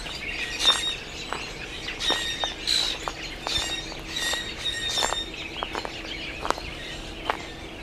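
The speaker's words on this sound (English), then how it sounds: "I hope you could hear the birds." Several birds chirp and call along a nature trail at a manatee viewing center, quick bright notes and sharp tweets scattered steadily over a soft outdoor background, moderately near.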